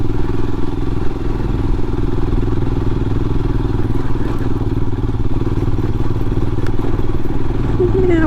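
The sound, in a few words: Royal Enfield motorcycle riding up a hill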